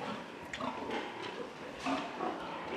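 Piétrain breed pigs grunting on a pig farm in Côte d'Ivoire, a continuous mix of low grunts and squeals from several animals at moderate distance, with no talking.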